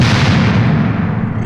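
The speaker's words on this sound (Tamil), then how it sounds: "கடிக்காதடா, வெடிச்சிரும்." A bomb goes off in a comedy film scene as a loud, close blast followed by a sustained rough roar that barely fades, with no voices.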